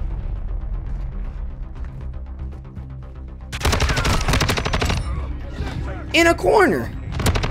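Automatic gunfire from an STB 556 tactical rifle in Call of Duty: Modern Warfare II, a loud, dense stream of close shots that starts midway, with someone talking over the quieter opening.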